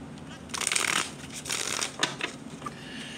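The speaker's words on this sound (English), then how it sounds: "All right, one more shuffle, y'all." A deck of cards being shuffled close up, heard as a few quick riffling bursts of papery flutter and snaps separated by short pauses.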